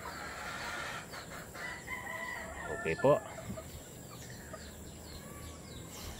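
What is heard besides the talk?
gray fighting-cock hens and rooster clucking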